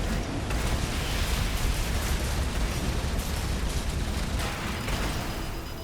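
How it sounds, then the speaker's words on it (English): Homing missiles explode in Armored Core 6 as a sustained, loud roar of overlapping blasts with a deep rumble and crackling, steady throughout with no clear separate hits. "Oh, and 4 homing missiles."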